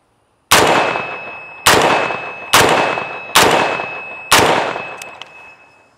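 An AR-15 rifle, a PSA Sabre, fires steel-case Tula ammunition outdoors at a range: five loud, sharp shots in a steady, slightly uneven rhythm, each ringing off briefly, with no talking.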